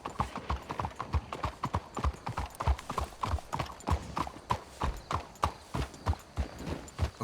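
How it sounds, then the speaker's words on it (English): Horses' hooves clip-clopping at a steady trot in the Red Dead Redemption video game, a loud, evenly spaced run of sharp hoofbeats throughout with no voices. "Let's hitch the horses up ahead."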